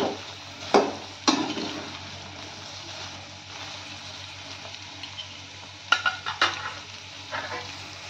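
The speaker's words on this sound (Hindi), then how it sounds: "तो चलिए फ्राई कर लेते हैं थोड़ा सा चला के" Soya chunks frying in a pan, with a steady sizzle broken by a few sharp scrapes and clinks as they are stirred.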